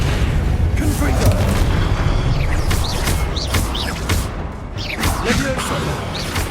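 Repeated Confringo fire-spell explosions in Hogwarts Legacy boom and crackle in a loud, busy combat scene, several blasts landing one after another while game voices shout over the din.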